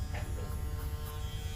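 Electric hair clipper with a half guard buzzing steadily and close up while cutting a child's hair at a barber's chair, a continuous low hum with no talking.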